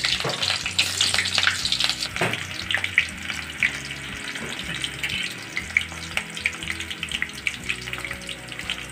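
Onion frying in hot oil for a Marathi-style fish curry, a steady loud sizzle with crackling spits and occasional clinks of a stirring utensil, no talk.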